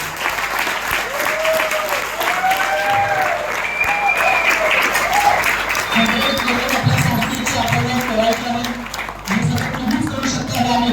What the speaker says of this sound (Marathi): जोरदार टाळ्या घ्या